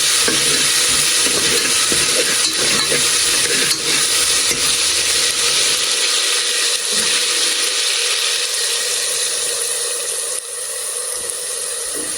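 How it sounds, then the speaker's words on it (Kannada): Ginger garlic paste with spices frying in a pan for palak egg biryani gives a loud, steady, close sizzle, with faint stirring scrapes and the hiss easing slightly near the end. "ನೀಟಾಗಿ ಫ್ರೈ ಆದಮೇಲೆ ಒಂದು ಸ್ಪೂನ್ ಶುಂಠಿ ಬೆಳ್ಳುಳ್ಳಿ ಪೇಸ್ಟ್ ಹಾಕೊಳ್ಳಿ."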